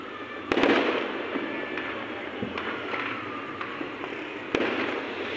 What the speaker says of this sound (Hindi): तो देख सकते हैं यहाँ पे 14 अगस्त के पटाखे बज रहे हैं